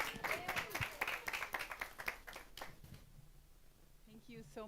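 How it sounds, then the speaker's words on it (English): An audience applauds a speaker at a fashion enterprise event in Zimbabwe, a burst of clapping that fades after a few seconds before a voice begins talking. "A round of applause for Amneh."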